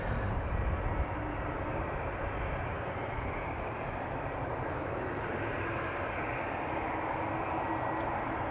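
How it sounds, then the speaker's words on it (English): Embraer E2 airliner with a large Wi-Fi hump near Amsterdam Schiphol Airport, producing a constant, fairly faint jet engine roar at a distance, steady and unbroken, with no talk. "First up, this E2 Embraer with a big Wi-Fi hump"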